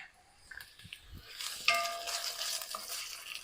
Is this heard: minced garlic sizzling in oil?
yes